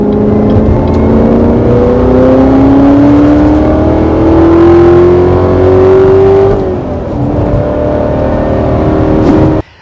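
Callaway Corvette C7 Aerowagen accelerates hard on a highway, a loud close engine note climbing through gears with a rising whine, a brief shift dip, then pulling again.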